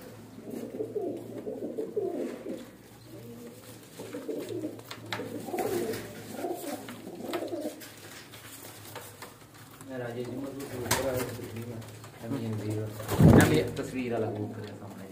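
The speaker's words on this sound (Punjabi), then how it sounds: "ਕਬੂਤਰ ਵੇਖੋ ਜੀ ਮਾਸ਼ਾਅੱਲਾ" Breeder pigeons coo in repeated soft, throaty phrases at close range, with rustling and a louder thump near the end, while someone talks over parts of it.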